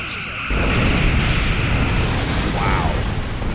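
Starship weapons in the space combat game Star Trek Online fire automatically, a dense, continuous barrage of booming blasts that starts abruptly and stays loud throughout.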